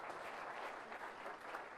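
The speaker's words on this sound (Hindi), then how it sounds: "जोरदार तालियां उसके लिए भी एक बार।" Audience applause at a creators summit event: a short, even burst of many hands clapping, steady and fairly distant, with no speech over it.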